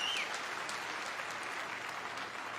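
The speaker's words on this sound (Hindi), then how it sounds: "एक जोरदार तालियां हम सबके महागुरु डॉक्टर संजीव कुमार गुरु जी के लिए" Loud, steady applause from an audience at a direct selling event in India, honouring a guru on stage, with dense clapping that fills the whole moment and carries no speech.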